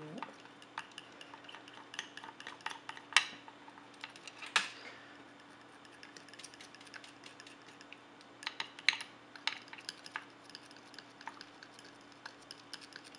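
A utensil stirs a thick homemade clay frosting mixture in a container, giving a steady, close clicking and scraping rhythm with a few sharper knocks against the sides.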